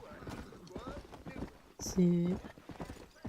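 In the video game Red Dead Redemption, a horse's hooves clip-clop in a brisk, steady rhythm, heard close under a voice talking in French and a brief loud tone partway through.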